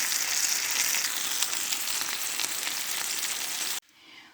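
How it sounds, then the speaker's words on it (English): Chopped onion and garlic sizzle and crackle steadily in a hot pan during stir-frying for a simple home dinner, a dense continuous fry that cuts off abruptly near the end. "I'm going to throw in the onion and garlic at this point and continue to stir fry until the onion is cooked"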